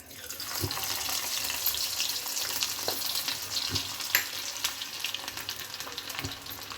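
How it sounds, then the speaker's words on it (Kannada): Ginger frying in hot oil in a pan for sweet and savoury Sankranti pongal, a steady close sizzle with occasional clicks and stirring taps throughout, no talking. "ಕಾಯಿಲಿ ಸ್ವಲ್ಪ ಶುಂಠಿ ಹಾಕ್ಬಿಡೋಣ"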